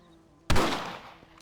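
A single rifle shot in the Red Dead Redemption video game cracks sharply and close, then fades in a short rolling tail.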